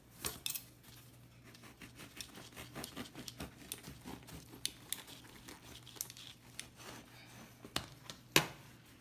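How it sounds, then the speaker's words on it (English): Bread rolls being sliced in half and hollowed out by hand for bean and cheese sandwiches, giving soft crinkling, tearing and crumbly scraping in irregular close bursts, with no one talking. "So we cut them in half, and we take off the inside of the bread"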